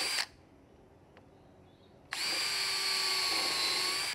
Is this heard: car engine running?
no